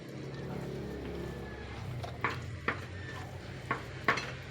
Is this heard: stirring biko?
yes